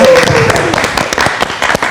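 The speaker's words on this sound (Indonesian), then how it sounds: "Keren kali kita kasih tepuk tangan untuk Aumania yang sudah memberikan komentarnya." Loud studio audience applause on a live Indonesian talk show, dense rapid clapping mixed with crowd noise and a few brief voices, filling the whole short stretch.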